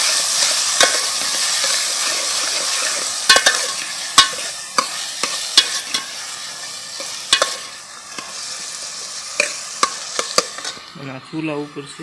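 Ivy gourd (tindora) frying in a pan with cumin seeds and a leaf gives a loud, steady sizzling hiss. Sharp spoon or spatula clinks against the pan break in repeatedly as it is stirred.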